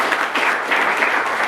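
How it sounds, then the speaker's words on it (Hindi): Audience applause at a farewell speech event, a steady dense wash of clapping held at an even level throughout, with no voices standing out above it. "आप लोग एक बार इनके लिए ताली बजाइए"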